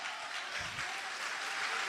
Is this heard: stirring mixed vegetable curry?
no